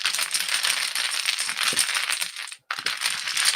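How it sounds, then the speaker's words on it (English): Pai Gow tiles clatter and rattle continuously as a casino dealer shuffles them across a table, with a brief break near the end before the clicking resumes. "So I'm going to do my shuffle and I'm going to stack."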